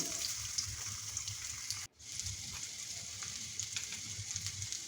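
Onions fry in hot mustard oil in a pot on the stove, giving a constant close sizzle and crackle with one brief dip partway through.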